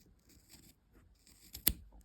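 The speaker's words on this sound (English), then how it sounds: "So separate some with your scissors" Scissors snip through blanket fabric up close, with soft rustling and small slicing sounds, then one sharp, louder snip near the end.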